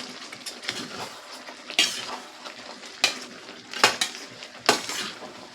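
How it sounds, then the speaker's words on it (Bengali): Potol chingri curry, a Bengali pointed gourd and prawn dish, being stirred in a pan with a metal spoon that scrapes and clinks at irregular intervals over a steady soft sizzle. "মাঝে মাঝে তরকারিটাকে একটু নেড়ে দিতে হবে"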